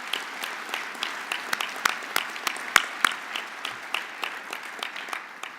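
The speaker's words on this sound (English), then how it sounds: "will you please join me in a round of applause for our great soldiers" Scattered applause from a modest audience honoring soldiers at a Stars and Stripes event, individual claps audible as sharp distinct pops over a softer patter, fairly even throughout.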